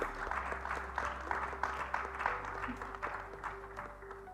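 An audience at a corporate social responsibility and ESG summit in India applauds the moderator, a steady moderately loud clapping with a low hum running beneath it.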